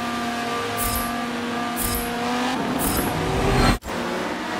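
Race cars roar around the Brands Hatch circuit in Forza Motorsport 7, a steady engine drone with three rhythmic gear-shift bursts, then rising revs as the pack accelerates before a brief cutout.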